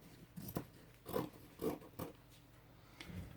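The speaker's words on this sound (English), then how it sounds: "I'm going to cut here and here." Scissors trim paper for an art journal: several quiet, crisp snips spaced about half a second apart, close by and heard alone without talk.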